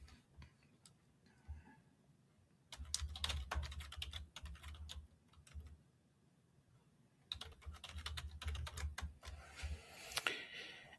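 A computer keyboard clatters in two quick bursts of close typing as a caption is entered, separated by a quiet pause, with no talking.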